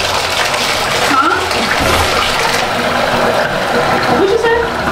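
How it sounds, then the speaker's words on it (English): Tap water runs steadily and loudly into a tub while a dog is bathed, a continuous splashing rush that lasts throughout, with a person talking over it. "The water's too loud."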